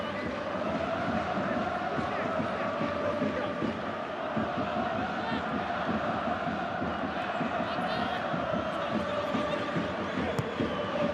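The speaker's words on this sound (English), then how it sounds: "Fabulous crowd." A large stadium crowd at a Japan vs Australia football match in 2018 keeps up a continuous roar of chanting and cheering, with a commentator's voice over it.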